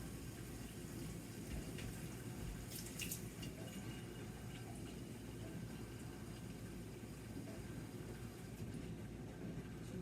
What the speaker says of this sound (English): I'm going to use a pint jar, just a standard canning jar, to measure out my water